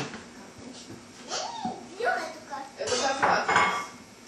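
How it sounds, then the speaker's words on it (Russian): Metal forks clink and scrape against dishes at a home meal table, producing irregular bright chinks and rattles, close and moderately loud, mixed with people talking. "Джо, дай вилки, пожалуйста, Берти."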